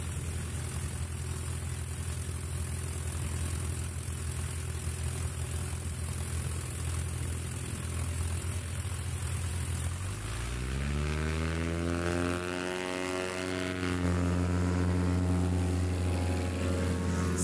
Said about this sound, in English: sometimes it's nice to hear a little bit of jet noise